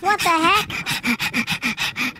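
A dog pants rapidly and steadily, close up, with quick rhythmic breaths; a voice speaks briefly at the start.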